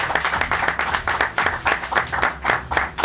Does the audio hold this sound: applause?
yes